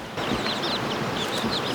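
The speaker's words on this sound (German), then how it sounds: "Oh, ganz viele Babyhühner." Chickens cluck softly nearby while a flock of small chicks peep in quick, high, repeated chirps throughout, outdoors on São Miguel in the Azores.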